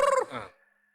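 A voice imitates a Malay call to chickens with a short, throaty rising-and-falling cry lasting about half a second, close and loud, trailing off into a faint whistle-like tail.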